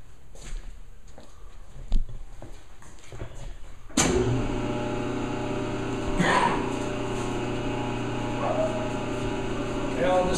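A Leblond Regal 17-inch swing, 60-inch lathe with taper attachment starts up at about four seconds and runs steadily at low speed, a sustained mechanical hum with a few knocks over it, preceded by quiet shop background.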